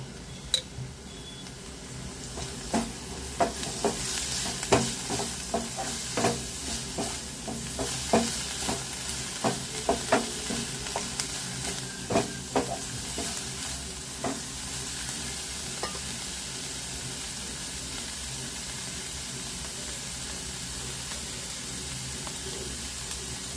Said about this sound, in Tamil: இப்போது இந்த ஸ்டேஜில் எண்ணெய் விட்டு நம்ம கொஞ்சம் நேரம் வதக்கி எடுத்துக்கலாம்